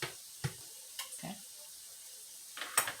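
A crock pot is rinsed under a running kitchen tap, with a few brief splashes and soft clatters spread over a quiet background and no talking.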